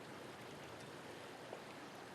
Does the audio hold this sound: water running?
yes